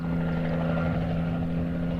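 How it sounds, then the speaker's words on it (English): Twin-rotor model helicopter taking off in the Supercar TV show, a steady droning engine and rotor hum with a strong tonal whine, continuous and fairly close. "Tied to the bars, away goes the helicopter."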